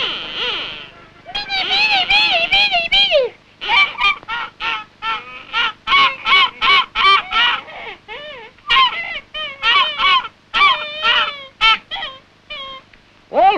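Skua gulls calling near a penguin colony in the Antarctic: loud, close, harsh honking and wailing cries in rapid bursts, several birds overlapping with short pauses between calls.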